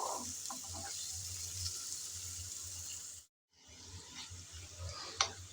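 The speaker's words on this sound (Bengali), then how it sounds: "এখন নেড়ে চেড়ে ভালোভাবে ব্রাউন কালার করে পেঁয়াজ ভেজে নেব।" Chopped onions frying in oil in a pan for a chicken dish, a soft continuous hiss with faint stirring scrapes, briefly cut to silence midway before the sizzle resumes with a sharper clack near the end.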